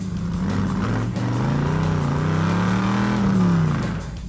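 A pro street car's engine idles loud and close as it warms up, with a deep rumbling drone that rises and falls in pitch over several seconds as it gets light revs.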